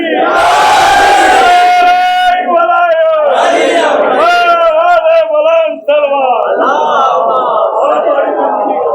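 Large crowd at a Jalsa-e-Ghadeer religious gathering loudly chanting the Naara-e-Haidri slogan in unison, several drawn-out shouted phrases in a roaring, echoing hall.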